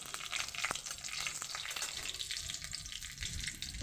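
Close, steady sizzling and crackling of nigella seeds and a green chili frying in hot oil, with a few sharper pops, and no talking.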